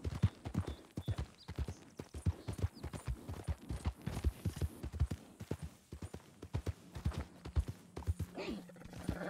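A horse clip-clops at a brisk, steady gait in Red Dead Redemption 2, giving loud, close, rhythmic hoof thuds throughout, with a voice talking now and then underneath.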